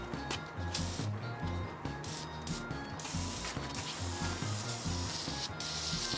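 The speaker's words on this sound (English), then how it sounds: "The pressure washer will work miracles." A harsh, hissing spray from a pressure washer over a low engine drone, surging and dropping repeatedly as the spray is aimed on and off.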